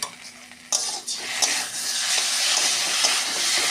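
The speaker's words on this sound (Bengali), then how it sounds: "এবার মশলাগুলো দেবো।" Spices hit a hot wok in a Bengali home kitchen, sizzling loudly and continuously while a spatula scrapes and stirs with sharp intermittent clacks.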